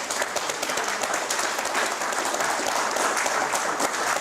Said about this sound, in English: Can you please give a round of applause to these gentlemen who've answered?